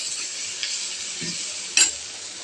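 Dried fish curry with chili and coriander powder being stirred in a pan over a gas flame, a soft steady sizzle with a few gentle scrapes and one brief metallic clink, close and without talk.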